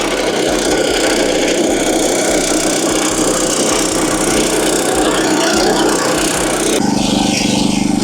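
A Firman FTL610W cultivator's small engine runs loud and steady as the machine moves off, a close, constant drone with churning noise and a slight change in tone near the end.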